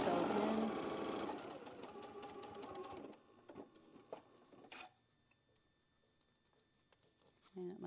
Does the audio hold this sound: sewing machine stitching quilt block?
yes